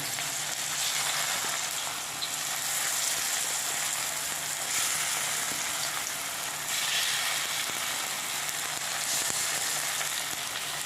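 Taro leaf rolls frying in hot oil in a wok, giving a steady, dense sizzle with soft crackles that holds evenly for the whole stretch, close and alone with no talking.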